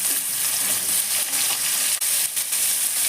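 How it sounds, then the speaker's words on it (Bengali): Pumpkin pieces frying in hot oil with lightly fried crushed garlic, a loud, steady, dense sizzle that holds close and continuous throughout. "এবার আমি কুমড়োটা তেলের মধ্যে ছেড়ে দিলাম"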